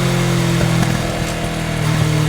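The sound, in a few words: Kawasaki Ninja 650 motorcycle with Akrapovič exhaust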